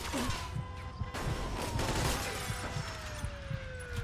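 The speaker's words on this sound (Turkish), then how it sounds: "Kim o vuran oğlum? Nereden vuruyor?" Gunfire in the Mafia 2 video game, with repeated sharp shots and bursts popping through a busy, noisy street scene.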